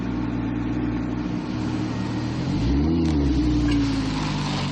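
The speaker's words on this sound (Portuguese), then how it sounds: "após quase 8 horas de um meticuloso trabalho à mão, o novo R8 é ligado" A new Audi R8 supercar engine fires up for the first time at the factory, settling into a steady, close, deep idle with a brief rising rev swell partway through.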